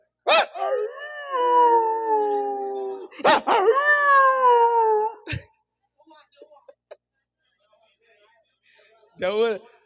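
A person imitates a dog howling: two long, wavering howls, then a quiet stretch with small noises, and a short final howl.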